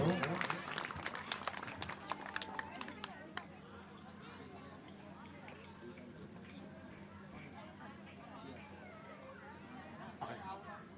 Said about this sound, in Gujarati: એકવાર જોરદાર તાળીઓના ગણગણાટ બતાવો.